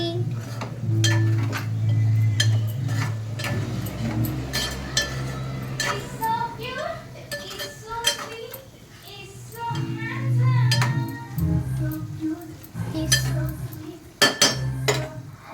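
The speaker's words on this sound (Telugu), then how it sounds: "ఇప్పుడు మనం గరిటె పెట్టి దాన్ని తిప్పాలి." A ladle stirring potato curry in a pan, with repeated clinks and scrapes of metal against the pan in irregular bursts, while someone talks over it and a voice is faintly heard.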